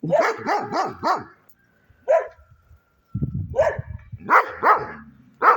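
Dogs bark loudly in a garden with juniper plantings, a quick run of four barks, a lone bark, then another volley of barks after a brief quiet stretch.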